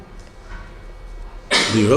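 A single sudden, loud sneeze bursts out near the end after a stretch of quiet room noise.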